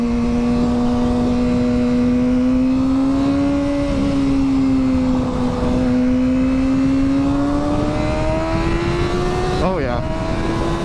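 A Kawasaki 636 motorcycle pulls hard on a San Diego freeway, its engine note climbing steadily and loudly throughout with strong wind rush, a brief shift-like dip near the end.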